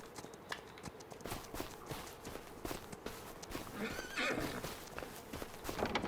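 In the Farming Simulator 25 video game, horses being groomed give a clear neigh and whinny, while hooves clop and shuffle in an uneven rhythm close by and a voice speaks softly underneath.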